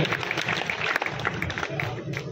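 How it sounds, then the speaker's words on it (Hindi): A crowd at a Muslim community mahapanchayat political gathering applauds a speaker's welcome, with steady clapping and faint crowd voices mingled in. "पर जोरदार तालियों के साथ अभिनंदन और स्वागत"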